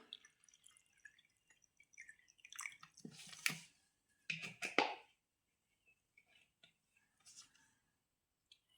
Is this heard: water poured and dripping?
yes